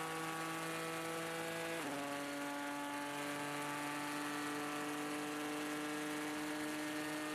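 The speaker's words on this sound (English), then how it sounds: "turbocharged Ford EcoBoost engine sounds absolutely amazing as they go down the Mulsanne straight" On-board sound of a Ford GT race car with a turbocharged V6 EcoBoost engine at the 24 Hours of Le Mans, a steady loud drone that drops in pitch once with a gear change, then holds on the straight.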